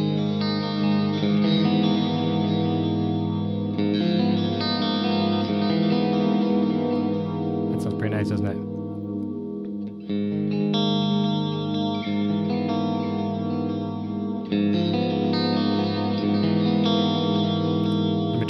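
Electric guitar set to the second pickup-switch position, played through a lush delay effect, with sustained chords and notes trailing off in repeating echoes that ring out continuously at a loud, steady level, and a brief spoken comment near the end.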